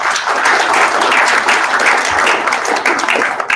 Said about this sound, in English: Can we give a big applause to the coming new qualifiers?